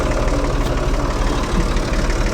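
Tractor engine idling steadily and loud up close while its hydraulics are worked, a continuous low rumble with a faint knocking texture and no talk.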